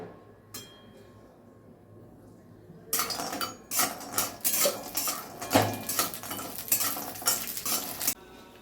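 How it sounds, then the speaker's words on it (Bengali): Bori lentil dumplings frying in a wok: quiet at first, then loud clattering of a spatula against the metal pan over a light sizzle, repeated scraping strokes for several seconds. "প্রথমে কড়াইতে বড়িটা দিয়ে আমি বড়িটা একটু ভালো করে লাল করে ভেজে নেব।"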